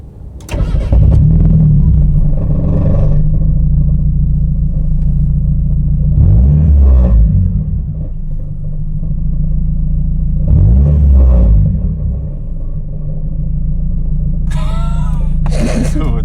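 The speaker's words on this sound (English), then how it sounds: "We did not have an exhaust rattle until right now." A Mazda Miata on the road, its exhaust rattling over a steady, loud low engine drone that swells and eases with a few brief harsher bursts.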